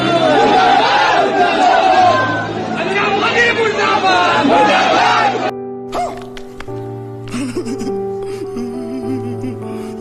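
A crowd chanting slogans of "Godi media" and "murdabad" against Anjana Om Kashyap, loud rhythmic massed voices with shouting and chatter, dropping after about five seconds to a calmer mix of voices and tones.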